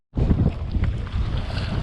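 A strong headwind blasting across the microphone while sea kayaking off Wardang Island, a loud, continuous low rumble of buffeting wind that starts abruptly and stays steady throughout.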